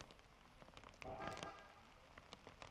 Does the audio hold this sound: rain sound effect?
yes